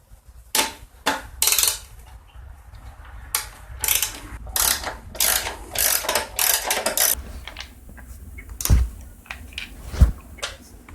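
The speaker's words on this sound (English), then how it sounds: "A 5/16 will take this shield off." Ratchet with a 5/16 socket loosening the shield on a 2002 Craftsman Tecumseh 4.25 HP small engine: rapid bursts of clicking pawl strokes, close and crisp, with a couple of sharper knocks of metal near the end.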